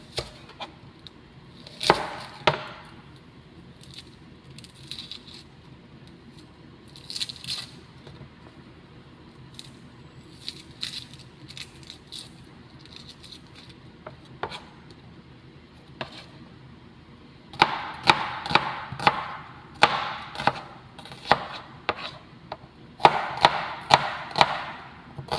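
A knife chops onion on a cutting board in a home kitchen during cooking, scattered sharp knocks at first, then a denser run of quick rhythmic chops close by toward the end.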